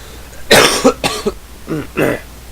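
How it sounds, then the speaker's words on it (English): A few harsh, close coughs in quick succession, followed by a couple of softer throat-clearing coughs. "But sorry, I have a cough."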